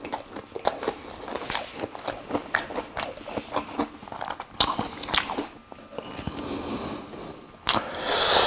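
Crunchy bites into a cheese-filled corn dog, close up: a steady series of crisp, crackling crunches and chewing over roughly eight seconds, with sharper bursts near the middle and end.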